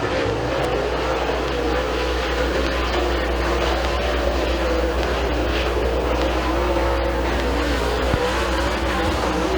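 Race cars dueling for third place on the dirt oval at Thunder Mountain Speedway during a heat race, a steady loud engine roar sustained throughout, no voices.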